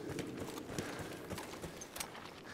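Horse hooves gallop in a rapid clip-clop rhythm through Battlefield 1 gameplay, steady and fairly close amid busy game noise, with people talking over it.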